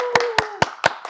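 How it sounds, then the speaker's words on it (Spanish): A handful of sharp hand claps at a steady pace, five distinct smacks close by, with a faint tonal hum underneath. "Un aplauso, por favor."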